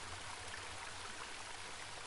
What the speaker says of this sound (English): The path ended in a cold-looking river.